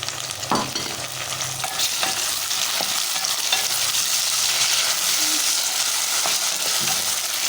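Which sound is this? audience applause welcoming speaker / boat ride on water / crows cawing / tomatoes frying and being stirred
tomatoes frying and being stirred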